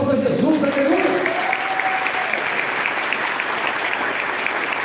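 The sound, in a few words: applause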